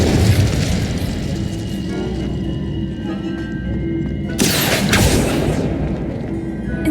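A booming magical blast from the Incendio spell in the video game Hogwarts Legacy erupts partway through, a sudden loud burst over a steady rumbling game backdrop.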